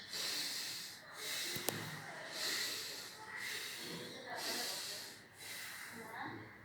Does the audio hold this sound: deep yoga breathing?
yes